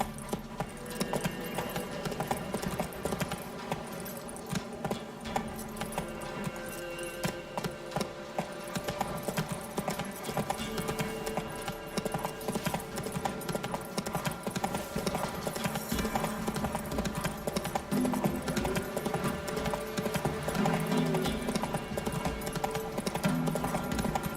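Hooves clip-clop steadily at a fast pace as a horse gallops in The Witcher 3: Wild Hunt, with the rhythmic beat continuing throughout over the game's background sound.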